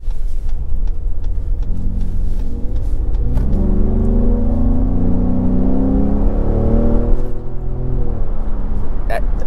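A Ford Raptor truck with a 10-speed transmission accelerates hard, its engine note climbing and dropping repeatedly as it steps up through the gears, loud and close from inside the cab, with some talk mixed in.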